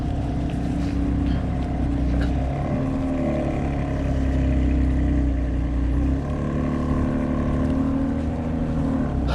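A loud, low rumbling modified car exhaust drones steadily throughout, a deep throaty note with wind buffeting, heard from a bicycle on a beach road, no talking.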